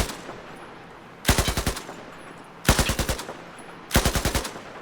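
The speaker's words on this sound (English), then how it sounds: "the best thing to do with this weapon is to burst fire. 3-4 rounds with a little bit of compensation" Three short controlled bursts from the Pig machine gun in a video game, each about five or six quick rounds, loud and close with brief pauses of near-quiet between them.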